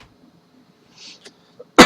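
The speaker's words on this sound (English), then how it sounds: "Sorry for all the coughing." A single person coughs: faint throat noises, then one sharp, loud, close cough at the end of an otherwise quiet stretch.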